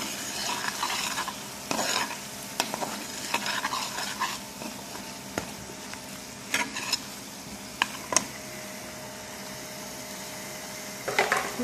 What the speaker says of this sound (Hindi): इसकी हम अब अच्छी तरह से भुनाई कर लेंगे